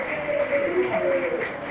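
Audience applause continuing at a presentation event on girls and technical careers, moderate and even, a dense patter of clapping with some voices underneath.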